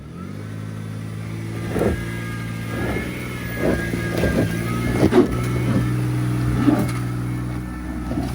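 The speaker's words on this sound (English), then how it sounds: "See if you got enough torque to drive, because it's more steep on the right." A BYD Shark 6 pickup climbs a steep, rough 4WD track in low range, its engine humming steadily and rising under load, with repeated thumps and surges as the tyres scrabble over rock. The sound is continuous and moderately close.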